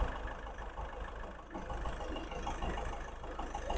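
A 2017 Ford EcoSport Titanium engine idles steadily at low volume with the AC off, a faint even rumble with no voices.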